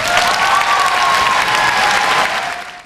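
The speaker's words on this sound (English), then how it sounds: "Please give them a big round of applause." Loud, dense applause from a commencement crowd at the 2017 E.C. Glass ceremony, close and sustained, with a faint tonal whistle through it before tapering off at the end.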